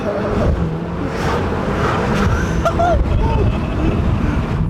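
A 325-horsepower all-wheel-drive car launching hard in drift mode, with a loud, steady engine roar and tire noise throughout, a voice faintly audible beneath.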